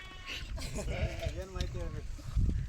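Sheep in a flock of about two hundred kept for milk in rural Karnataka bleat repeatedly nearby, several wavering cries overlapping in quick succession, with human voices mixed in.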